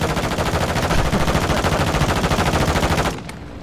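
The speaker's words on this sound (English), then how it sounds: "You are taking effective fire." Enemy gunfire in a video game: rapid, close automatic shots rattle in an unbroken stream for about three seconds, then cut off abruptly, leaving a quieter tail.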